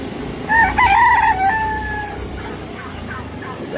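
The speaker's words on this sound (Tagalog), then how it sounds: "Nag-aalaga kami manok dito." A rooster crows once nearby, a loud rising-and-falling call lasting about a second, followed by low ambient rustling and faint background noise.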